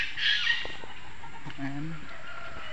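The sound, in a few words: chickens clucking, junglefowl (labuyo) at wildlife center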